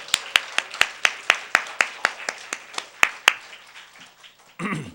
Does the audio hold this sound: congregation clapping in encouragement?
yes